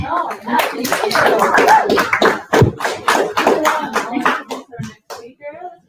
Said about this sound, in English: Another round of applause for Tziavii.